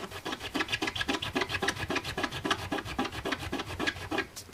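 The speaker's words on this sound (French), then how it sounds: "Si j'y vais, je frotte, hein. T'entendez le bruit que ça fait." Rapid, rhythmic back-and-forth rubbing of a clear rubber stamp inked with StazOn ink, a steady scratchy rasp repeated many times at an even pace, close and fairly quiet with no voices.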